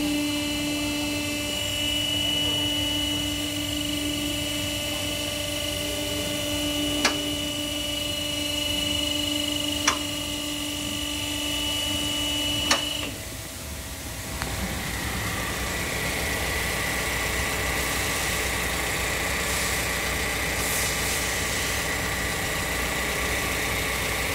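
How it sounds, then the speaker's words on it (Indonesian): A Toyota Sienta engine idling smoothly after its water pump was replaced. The hum is steady and even, with a few faint clicks, then a shift in tone partway through as the idle carries on. "Suara mesin kembali normal ya, menjadi halus lagi."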